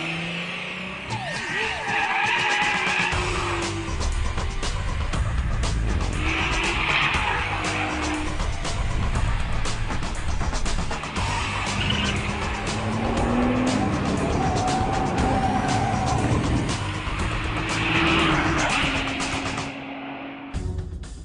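A 2009 Nissan GT-R twin-turbo on the Laguna Seca track, its loud engine roaring continuously through gear changes, with repeated tire squeals in corners and no talk.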